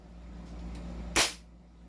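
A Glock 17 pistol fires a single sharp, loud shot that cuts through a quiet background and fades quickly.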